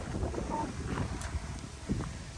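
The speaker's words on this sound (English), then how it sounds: "Just the wind needs to die down before I climb Dragon's Tooth because I don't want it to be windy." Steady wind buffets an open Appalachian Trail mountain spot near Dragon's Tooth, a constant rushing noise with gusty swells and faint rumbling, no voices present.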